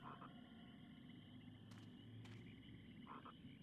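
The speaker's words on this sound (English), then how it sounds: "Oh, look, it's a frog." Frog croaking in the video game BloodRayne: Terminal Cut, short paired croaks at the start and again near the end, quiet over a steady ambient game background hum.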